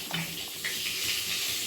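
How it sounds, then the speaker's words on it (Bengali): Eggplant pieces sizzle in hot oil in a pan, a steady close hiss and crackle with a few small pops across the whole short stretch, nothing else breaking through. "বেগুনগুলো ভাজা হচ্ছে"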